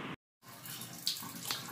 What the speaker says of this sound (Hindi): इसके जो है यहाँ हैंडल से पानी निकल रहा है और एक ये जो इसका ओवरफ्लो को होता है इसमें से पानी निकल रहा है